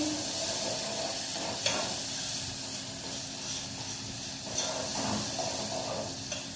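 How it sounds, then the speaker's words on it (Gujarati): Boiled chana dal goes into a hot tempering with curry leaves in a pan, giving a steady, close sizzling hiss that holds evenly throughout with slight swells. "આપણે આ ચણાની દાળ વઘાર નાખવાની છે બાફેલી"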